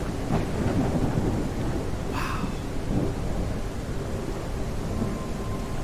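Thunder and rain in the kayaking game Kayak VR: Mirage: a steady wash of loud rain with a deep thunder rumble rolling through, while a single voice exclaims briefly near the start.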